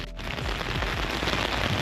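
Heavy rain pours down on an outdoor athletics track at a track and field league meet, a dense, loud, continuous wash of drops hitting the ground with no voices.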